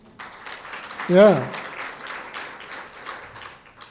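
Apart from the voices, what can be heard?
audience applause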